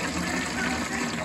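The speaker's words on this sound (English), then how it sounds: "We're gonna put the water in the bottom, which you should have done before." Water pouring steadily into the bottom of a steamer pot for cooking tamales, a continuous close splashing gush with no pauses.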